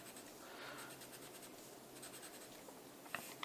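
Pencil tracing over an EVA foam craft sheet, a soft continuous scratchy rubbing that runs steadily throughout, quiet and close, with a couple of sharper taps near the end and no talking.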